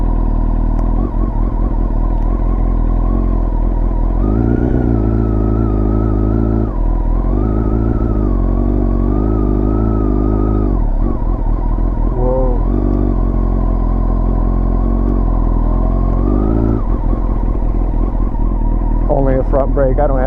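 A Honda CBR929RR motorcycle fitted with a new radiator rumbles steadily on a test ride, loud and close, its engine note rising and falling under wind buffeting, with occasional talk over it.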